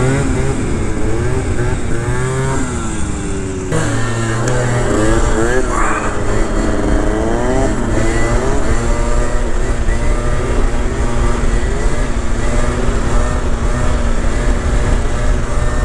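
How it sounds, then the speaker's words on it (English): A Honda Dio moped's small 50cc engine whines and revs up and down through rising pitches during a wheelie ride, loud and close, with people talking and shouting over it. "Is this dude on a moped?"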